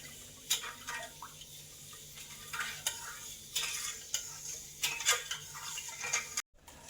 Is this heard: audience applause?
no